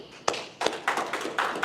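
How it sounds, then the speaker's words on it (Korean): Scattered hand claps from a small audience at a 2021 degree-conferral ceremony at a Korean theological seminary, a few sharp, distinct claps in an uneven rhythm, close and fairly loud. "우리 김선중 목사님께 우리 한번 박수로 한번 축하합시다."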